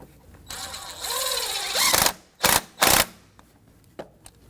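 Ratchet with a 10mm socket working a bolt on a 1992-1996 Toyota Camry, a run of quick mechanical clicking followed by a few sharp, close bursts of metallic noise, then quiet.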